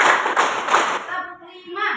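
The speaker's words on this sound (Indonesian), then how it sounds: "kita mulai tepuk satu, tepuk dua, tepuk tiga, tepuk empat" Hands clap in a counting concentration game, with several sharp claps packed into the first second and lighter activity and voices after.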